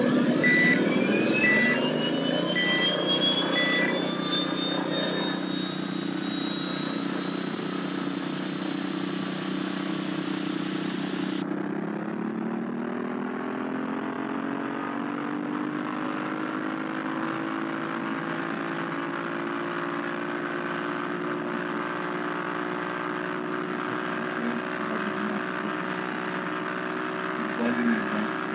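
Aircraft engine restarting in a flight simulator: a rising electronic whine and tones settle into a steady, loud droning hum that holds for the rest of the span, with no talk.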